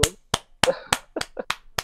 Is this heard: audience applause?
yes